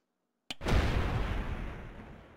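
Ship's cannon fires at a fort in the naval video game Scourge of the Seas: one sudden loud boom, then a long rumbling roar and crackle that slowly fades, with no talking.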